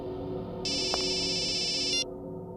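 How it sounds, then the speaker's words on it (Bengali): A phone ringtone rings in a short electronic burst, a steady high warbling tone that lasts about a second and a half over a low background hum and then stops. "বস, আপনার ফোন"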